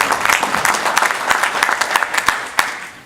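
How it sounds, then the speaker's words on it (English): An audience at a charity event for Kashmir breaks into a warm round of applause, a dense patter of many hands with a few sharper near claps standing out, lasting the whole stretch. "let's give a really warm round of applause to all the organisers for putting it together"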